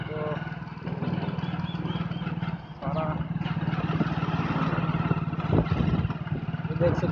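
Tractor working in irrigated fields at Pusa, its engine running with a steady mid-pitched drone and some rougher, uneven bursts throughout, heard at moderate distance with people talking alongside.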